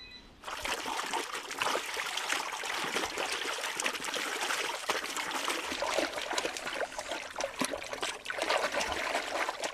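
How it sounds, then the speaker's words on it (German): Silk fabric lengths drawn through a muddy brown mud-dye bath on Amami, giving a steady, close trickling and splashing of water that runs without pause. "3 bis 4 Mal werden die Stoffbahnen durch das schmutzig-braune Wasser gezogen."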